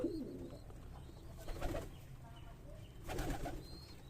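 Soft, low pigeon cooing in a quiet pigeon loft room, a couple of faint murmuring bursts with stillness between them.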